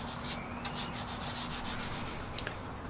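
Sandpaper rubbing over spot putty on a bonsai pot, a close, steady run of quick scratchy strokes repeating in an even back-and-forth rhythm, with no voices.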